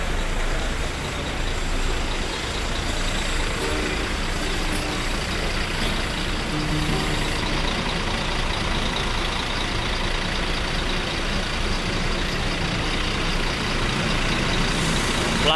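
A Hino RM Tiger Bus with a space frame and SHD body idles at Grogol bus terminal, a loud, continuous diesel rumble with a steady hiss of terminal noise and no talk.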